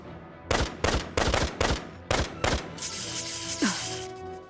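Gunfire in the war game Valkyria Revolution: six heavy, booming shots in a fast irregular volley, loud and close, followed by a fading echoing rumble and a brief whooshing sweep.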